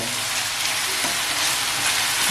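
Mussel masala sizzles steadily on a hot tawa, a dense, continuous frying hiss that stays even and close throughout, with no voices.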